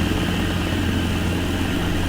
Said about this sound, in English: just gonna put the chopper down now and end this little flight